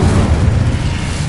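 An Incendio fire spell is cast in Hogwarts Legacy, bursting as a loud, deep, roaring blast that holds steady and thick throughout, alone without talk.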